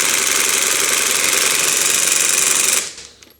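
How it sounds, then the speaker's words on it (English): A Lidl Parkside impact wrench set to 200 hammers against lug nuts on a car wheel in a loud, rapid, continuous rattling burst lasting nearly three seconds, then stops abruptly, leaving brief faint clicks. "So I'm gonna put this one on 200 and try to remove the lug nuts on this one."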